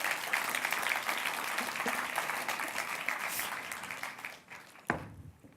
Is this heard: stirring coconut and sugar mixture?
no